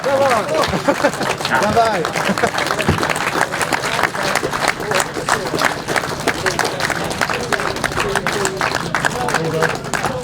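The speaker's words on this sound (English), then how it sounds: "one final round of applause" A crowd claps loudly and continuously throughout, with scattered voices and cheers mixed into the sustained applause.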